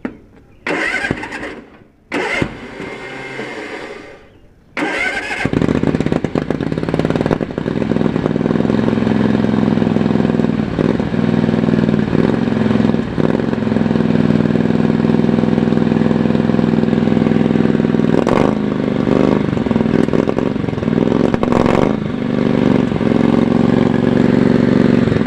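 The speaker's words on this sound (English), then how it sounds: "It's not running real well with that one carb, but she's a little cold-blooded." An engine fed by a single carburetor cranks in a few short bursts, fires, and settles into a loud, rough, uneven idle that keeps running with irregular stumbles, a brief voice heard before the start.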